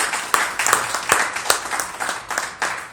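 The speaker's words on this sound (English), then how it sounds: "Give him a round of applause." A room of attendees at a State Board of Education District 4 event gives a round of applause, with sharp, uneven individual claps close by and scattered through the crowd.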